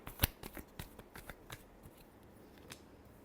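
Tarot cards being shuffled in a final shuffle: a burst of crisp riffling clicks and flutters near the mic, tapering into a few soft taps before quiet.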